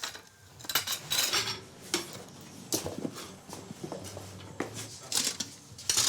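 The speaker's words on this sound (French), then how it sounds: "Il y a de casseroles." Pots, pans and cutlery clink and clatter in a small home kitchen, a run of irregular metallic knocks and scrapes at close range with short pauses between them.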